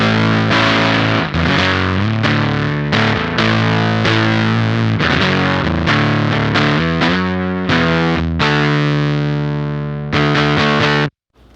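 An electric guitar through a Beetronics Octahive V2 fuzz pedal at minimum gain plays a dense run of notes and ringing chords, loud and continuous with a mildly fuzzy, saturated edge, ending with a final strum that cuts off abruptly.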